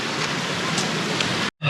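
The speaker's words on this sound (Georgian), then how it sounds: "მეგობრებო ისევ წვიმამ დაიწყო და ჩვენთან წყალი ჩამოდის" Steady rain falls during an outdoor tour near a cave, a dense, even hiss of drops on surfaces, close and continuous before a brief cut.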